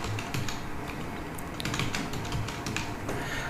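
Rapid typing on a computer keyboard while entering a role name into school management software: a close, steady patter of key taps with brief pauses and no talk.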